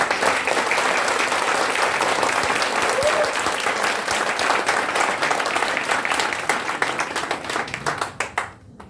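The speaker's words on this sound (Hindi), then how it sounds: "एक बार जोरदार ताली अपने लिए जाकर दिखा।" An audience at a business seminar in Bhopal bursts into loud, dense applause, sustained for several seconds and then thinning into scattered individual claps before stopping.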